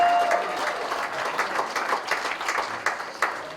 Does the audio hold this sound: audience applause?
yes